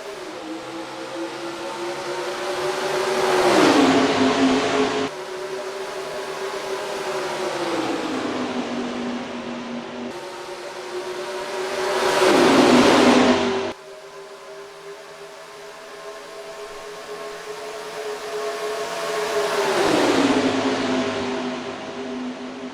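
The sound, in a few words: race cars accelerating at green flag, NASCAR Racing 2003 video game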